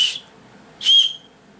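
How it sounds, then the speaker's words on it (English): Two short, shrill blasts from the whistle of a canned survival kit, each lasting a fraction of a second and separated by a brief pause, close and loud with nothing else around. "Yeah, whistle. Give it a little quick test,"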